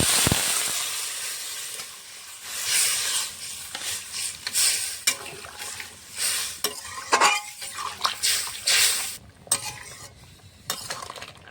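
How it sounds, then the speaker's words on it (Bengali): A spoon scrapes and clatters around a pot of small fish curry with taro, stirred steadily over a soft sizzle, with uneven metallic scrapes close by and no talk. "মশলার সঙ্গে ভালো করে কষিয়ে নিয়েছি"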